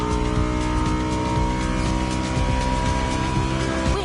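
Bugatti engines from the video game The Crew Motorfest, a Veyron and a La Voiture Noire, give a loud, continuous harmonic drone that rises and falls a little as the revs shift, with no talking.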